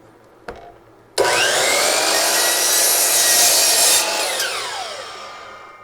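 A DeWalt DWS779 miter saw cutting a small scrap of plywood. After a faint click, the motor roars up loud and close with a whining blade tearing through the wood, then the whine winds down as it coasts to a stop.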